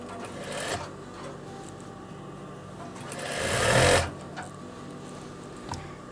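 A domestic sewing machine stitches fabric for veterinary overalls nearby. Short bursts of whirring give way to one longer, louder run of stitching, then the machine quiets again with a brief final burst.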